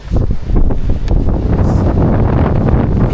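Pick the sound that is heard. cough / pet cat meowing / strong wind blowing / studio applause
strong wind blowing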